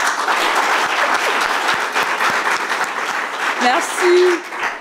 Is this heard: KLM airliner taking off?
no